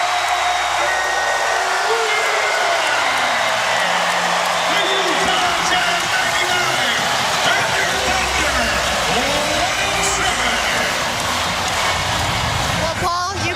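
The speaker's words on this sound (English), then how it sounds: "Listen to this crowd." Roaring basketball arena crowd after the Oklahoma City Thunder's 25-point comeback against the Utah Jazz in a playoff Game 5, a loud continuous wall of cheering and noise that never lets up.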